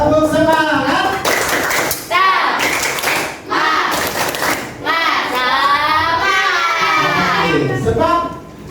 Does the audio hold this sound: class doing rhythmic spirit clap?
yes